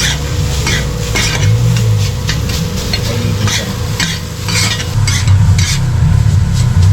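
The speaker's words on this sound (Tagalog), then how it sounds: "nilagay ang kanilang noodles at ginisa kasama ang pinasibol na munggo" Noodles stir-fried with mung bean sprouts at a food stall by Sampaloc Lake, a loud continuous sizzle with repeated scraping and clattering strokes of the spatula throughout.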